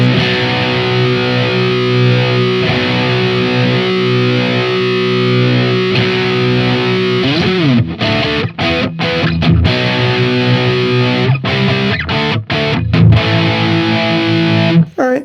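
Distorted electric guitar tones from a Firefly FFMN EVH-style guitar, sustained chords ringing loud and steady, then choppy stops and restarts in the second half, played alone with no talking.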